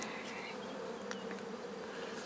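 Honeybees buzzing at an opened Dadant beehive, a steady, moderately quiet drone with occasional individual bees passing close by, with no talking.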